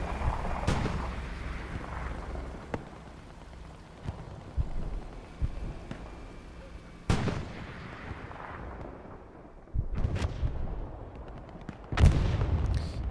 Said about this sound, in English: Artillery strikes coming over here to the rears.